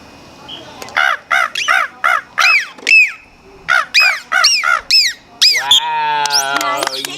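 A captive dolphin gives a long series of squeaky, seagull-like calls, about a dozen rising-falling squawks in quick rhythmic bursts ending in a wavering squeal, loud and close.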